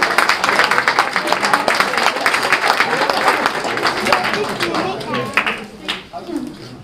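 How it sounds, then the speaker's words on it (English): Wedding guests applaud the groom at a reception, a loud, busy burst of clapping and cheering from a close crowd, with voices and calls mixed in, gradually thinning toward the end as talk comes through. "ladies and gentlemen, please give a huge round of applause for your groom."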